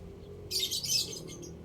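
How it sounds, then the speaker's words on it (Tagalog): A small bird chirps in a quick burst of high, close tweets lasting about a second, set over a low, steady background hum. "Siguro maganda lahi ng ibon na to pero maliit siya kaya hindi na-interest sa ibon."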